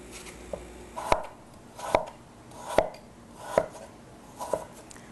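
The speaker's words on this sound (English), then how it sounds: "we're going to cut it in slices about 1/4 inch thick" Granny Smith apple, peeled, sliced into quarter-inch slices with a knife on a cutting board: five or six evenly spaced chops, each a crisp thud through firm fruit, close and moderately loud with quiet between.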